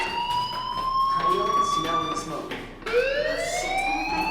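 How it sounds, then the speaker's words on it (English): A fire alarm in the video game Life is Strange wails in loud rising and falling electronic sweeps, with a brief dip before a fresh upward sweep. "Hey, do you hear that fire alarm? That means you should be outside."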